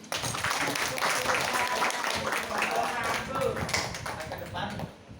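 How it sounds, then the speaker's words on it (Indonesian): A room full of people applauding, a dense, steady patter of clapping that holds for several seconds before tapering near the end. "Bisa diberi tepuk tangan dulu"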